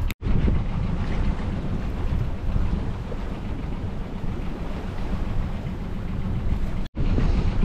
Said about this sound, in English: I'm gonna motor sail until the wind picks up